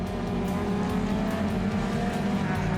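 Lotus race cars climb a hill toward a corner in a circuit race, engines droning loud and steady in a continuous close mix with no break.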